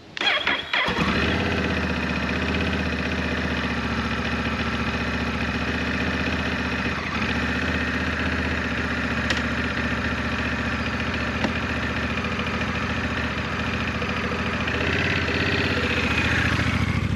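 A Honda Rebel 1100 motorcycle engine cranks over and catches, then settles into a steady, loud idle that runs close by and without interruption for the rest of the recording, with no talking.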